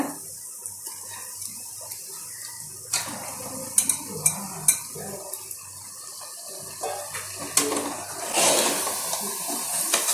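Chicken pieces sizzle in masala in a pan while a utensil stirs and scrapes, with scattered clinks of metal against cookware and a louder burst of frying near the end.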